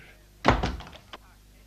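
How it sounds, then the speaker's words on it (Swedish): A door opens in an animated children's story with a single close, dull thunk followed by a brief rattle, then quiet. "Då öppnar hunden sin dörr."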